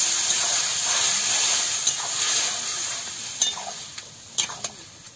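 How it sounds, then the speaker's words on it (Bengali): Water goes into a pan of simmering potato curry made with mashed potato, giving a steady steamy hiss and sizzle with a few light utensil clinks near the end. "এবার দিয়ে দিচ্ছি জল।"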